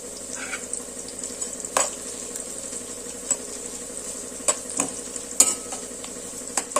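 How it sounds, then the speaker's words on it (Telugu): Onions and green chillies fry with bay leaves, cardamom, cloves and cinnamon, a steady soft sizzle under repeated sharp scrapes and clinks of a spoon stirring the pan. "ఇలా ఆనియన్స్, పచ్చిమిర్చి లైట్గా ఫ్రై అయ్యేంత వరకు కలుపుతూ ఉండండి"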